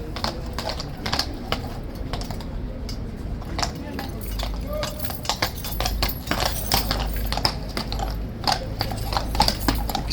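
Horse hooves clip-clop on hard pavement near a tourist crowd as a trooper settles the animal, irregular sharp clatters and shuffles throughout, loud and close, with crowd noise beneath.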